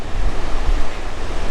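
Strong, steady wind batters the microphone on the Pembrokeshire coastal path, a loud continuous roar with heavy low rumble and gusty surges, no voices.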